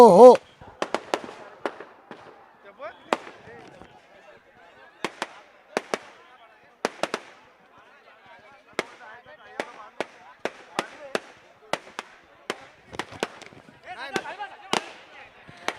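Firecrackers and fireworks crack sharply at a village wrestling match, a loud blast at the start, then a long uneven series of close snapping pops with brief gaps, over light background chatter.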